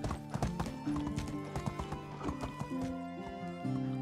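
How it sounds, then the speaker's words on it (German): Horse hooves clip-clop in a steady riding rhythm in the medieval video game Medieval Dynasty as a stallion is ridden into the stable, close and prominent, with a whinny, over a tonal musical background. "Ich reite ihn nochmal kurz in den Stall."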